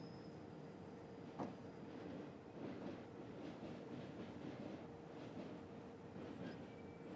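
Metronom regional train on the Hamburg–Hanover line in Train Simulator, rolling steadily with a continuous rumble and rhythmic wheel clatter over rail joints, close and even throughout with no talk.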